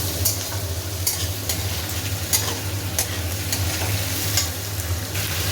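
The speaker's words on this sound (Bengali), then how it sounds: "কাঁচা লঙ্কা দিয়ে আলুটাও দিয়ে দিলাম। একটু ভাজা হলেই" Potato pieces and green chillies sizzle in a hot pan with a steady crackling hiss. Sharp clicks from stirring cut through it every second or so, with a low hum underneath and no voices.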